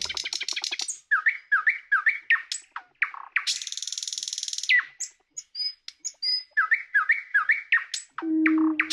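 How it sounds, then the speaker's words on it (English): Nightingale song heard alone and close: rapid repeated chirps, a sustained high buzzing trill, sharp whistled notes and short rising phrases, ending on a low steady whistle. "That's the actual nightingale song coming in."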